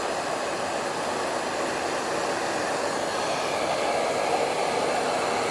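A Sharper Origin handheld router cuts a 1/4 inch deep pocket, giving a steady, loud, broadband whirring roar that holds evenly throughout with no pauses.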